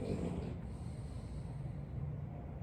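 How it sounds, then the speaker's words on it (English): A dog snoring steadily nearby, low rumbling breaths repeating in a continuous rhythm with no talking. "That was my doggy snoring"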